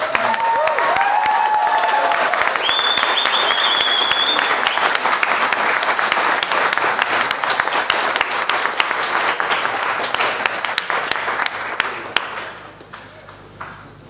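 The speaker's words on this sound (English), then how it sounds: "If we could give Ulster University a big round of applause" Audience applause for a university debate team at a debate evening, a loud, dense and sustained round of clapping that carries for about twelve seconds and then drops off quickly.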